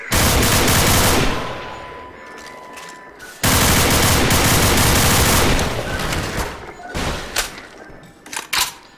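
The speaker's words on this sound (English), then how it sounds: "This gun's definitely quite powerful." Rapid automatic gunfire from a powerful gun in Garry's Mod, two long loud bursts of dense shots separated by a brief pause, then scattered single shots and short volleys tapering off.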